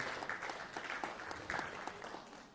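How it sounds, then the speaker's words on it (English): Scattered applause from an audience at a live Sukkot scripture reading, quiet and distant, with the claps blurring into a soft wash and small swells. "let's give a round of applause for that."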